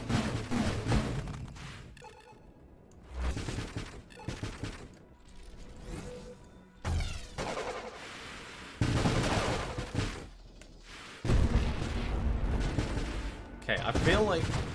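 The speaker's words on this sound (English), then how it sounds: "Let's not be near their explosions when they're off." Explosions in the space shooter Nova Drift: repeated bursts of blasts and crackling gunfire-like detonations in uneven clusters, loud and dense, with brief lulls between volleys.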